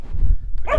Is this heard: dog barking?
yes